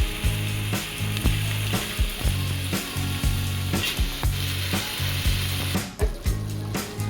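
Sprouted-bean usal and potatoes sautéing in a pan, a steady loud sizzle broken by regular scraping stirs of a spoon against the pan, with no talking.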